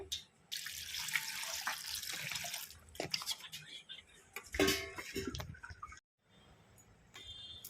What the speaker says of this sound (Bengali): পাস্তাটা আমি ঠান্ডা পানিতে ধুয়ে নিয়েছি।